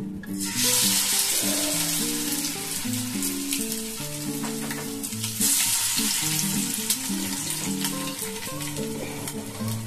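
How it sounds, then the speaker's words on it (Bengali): Cornflour-coated boiled eggs frying in hot oil, a strong, steady sizzle and crackle running the whole time with faint clinks, heard under a background of melodic tones and no talk. "কোট করে নিয়ে তারপরে এটাকে আমি তেলের মধ্যে দিয়ে ভেজে নেব"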